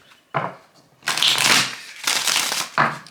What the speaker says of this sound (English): I'm going to shuffle the deck 3 times